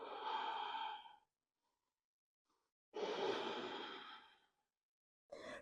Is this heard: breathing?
yes